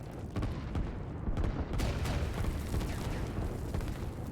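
Artillery fire in the real-time strategy game Line War, a dense rumbling barrage of overlapping booms and bursts, steady and loud, with a sharper blast near the start.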